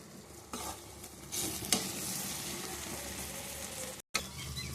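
Food sautéing in a pan, a soft steady sizzle that swells as the pan is stirred, with a clink of a utensil and a brief dropout near the end.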